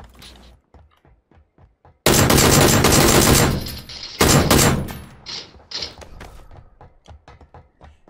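Gunfire in a battle royale shooter game: faint scattered shots, then two loud sustained bursts of rapid fire, followed by quieter intermittent shots trailing off.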